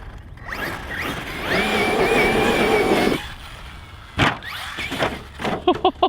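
A Team Magic E6 J-Star RC car runs on a 4S battery. Its motor whines steadily for a couple of seconds, then it lands and clatters with sharp knocks and rattles, all close up.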